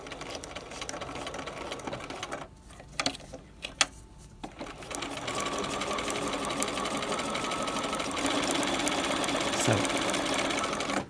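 A sewing machine stitches piping around a fabric corner, running steadily and close up with a brief pause partway through before resuming; a short spoken word is heard near the start.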